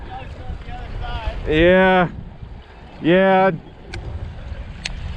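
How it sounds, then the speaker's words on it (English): Strong wind roars steadily across a city pond outdoors, a continuous low rumble buffeting the microphone while someone speaks briefly twice. "I had no idea it was supposed to get this windy. It is howling out here"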